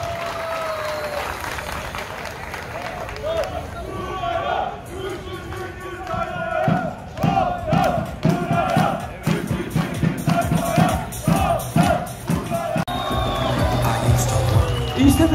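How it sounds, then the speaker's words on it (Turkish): A crowd at a football final's award ceremony claps and cheers, with shouts and whoops rising over a bustling background. A voice talks at the start, and the noise grows louder and more energetic in the second half. "Kocaman bir alkış alıyoruz."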